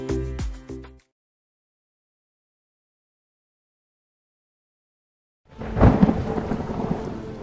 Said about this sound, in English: The storm doesn't ask.